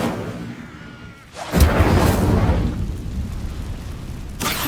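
A fiery Incendio spell bursts in Hogwarts Legacy, a sudden broad whooshing blast about a second and a half in that roars and slowly fades, followed by another burst near the end.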